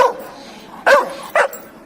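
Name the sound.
dog barking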